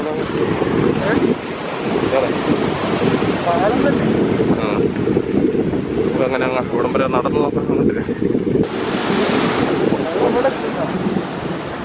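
Sea waves crash and surge steadily against a concrete walkway pier built out into the sea at Thalassery, with loud, continuous roaring water and gusty wind buffeting the microphone while someone talks over it.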